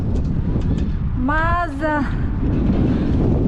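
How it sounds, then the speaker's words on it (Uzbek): Wind gusting outdoors on a clean, clear day in Korea, a steady loud rumble and buffeting across the mic that swells and eases, with a person speaking briefly partway through. "Shamol ozgina kamayib, birdan kuchayib, birdan kamayib turibdi."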